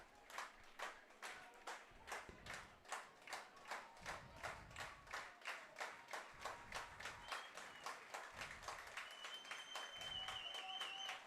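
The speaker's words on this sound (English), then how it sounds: "We'll wait for the clapping, and there it is." Baseball fans in the stands at a summer collegiate game clap in a steady unison rhythm, roughly two claps per second, faint and distant, with crowd murmur and a rising whistle toward the end.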